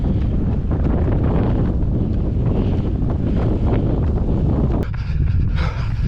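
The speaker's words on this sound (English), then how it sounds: "Just listen to that wind out there." Strong wind buffets the microphone during an outdoor 10K road race, a loud rumbling roar that stays constant and heavy throughout, briefly easing near the end.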